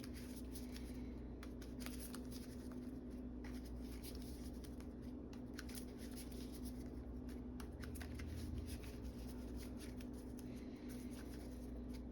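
A deck of encounter cards shuffled during a Marvel Champions tabletop game, a steady papery riffling and shuffling that runs close and continuous for several seconds with no talk.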